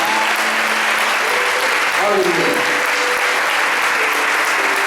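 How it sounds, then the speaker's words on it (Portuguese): A church congregation claps loudly and steadily through a communion service, a continuous wash of many hands with a preacher's voice calling out over it. "Bem forte essas palmas"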